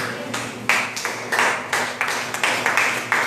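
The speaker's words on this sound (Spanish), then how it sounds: "¿Cuánto le dan el aplauso al Señor, hermano?" Congregation in a church service clapping, a few sparse, spaced claps in a short burst from a small group, fairly close.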